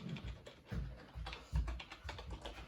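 Quiet, close clicking of fingers typing on a computer keyboard, an uneven burst of key taps with brief pauses, no talking.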